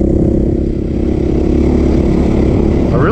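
Engine and exhaust of a 2023 Beta 430 Race Edition motorcycle, a steady loud close-up mid-pitched thrum running throughout with a slight rise in pitch at the end, no talking.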